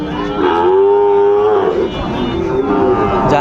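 Loud, close cattle moos from a Sahiwal bull calf, one long low call followed by a second shorter one, with faint crowd noise behind at a cattle market.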